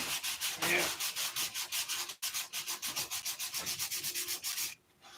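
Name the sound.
sanding primer on fillets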